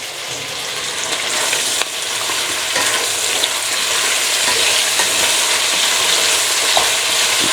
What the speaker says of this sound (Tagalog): Igisa ko siya ng kamatis.